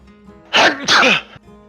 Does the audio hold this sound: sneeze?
yes